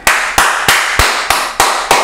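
Hands clapping in a steady, evenly spaced rhythm, seven sharp claps close and loud with nothing else behind them.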